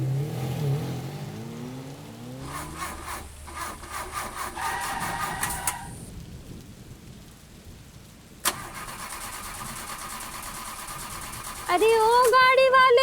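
A car engine strains and sputters through repeated starting attempts without running, grinding and whining in uneven bursts, with a short sharp clunk partway through and a rising whine near the end.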